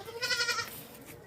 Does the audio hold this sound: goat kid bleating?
yes